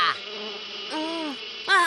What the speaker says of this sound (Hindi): इतने सारे मच्छर।